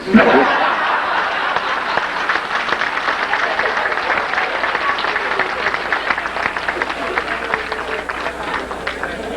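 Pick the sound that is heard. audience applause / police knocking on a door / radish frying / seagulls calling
audience applause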